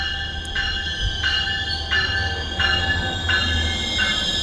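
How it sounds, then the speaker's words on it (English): A commuter train pulls into a station near a beach, close and loud, with a steady rumble under rising and falling squealing wheel tones that repeat in regular pulses. "Out goes Amtrak and in comes my train."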